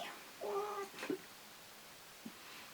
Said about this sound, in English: oh look how cute my cat is